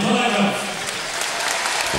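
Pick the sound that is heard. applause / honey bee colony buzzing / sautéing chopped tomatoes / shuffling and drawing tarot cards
applause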